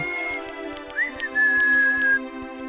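A clear, steady whistled melody with sliding pitches, heard alone over a faint rhythmic background accompaniment.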